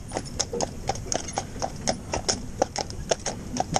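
A horse walks with an even clip-clop of hooves, steady and fairly close, over a constant low background rumble.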